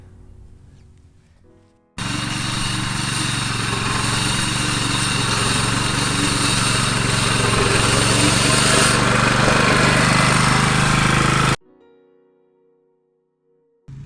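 A reel lawn mower chops through long grass with a loud, steady, droning roar that starts abruptly, holds for about ten seconds close by, and cuts off sharply, with no talk.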